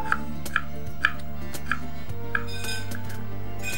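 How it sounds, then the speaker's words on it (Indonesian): Knife slicing shallots thinly on a cutting board, a steady series of sharp, close taps roughly every half second against a low background hum. "Ini aku iris-iris bawang merahnya, iris tipis seperti biasa aja."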